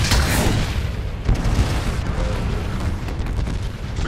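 Heavy explosions boom continuously in a Titanfall 2 Frontier Defense match, dense rolling blasts with sharp bursts layered over a loud low rumble throughout.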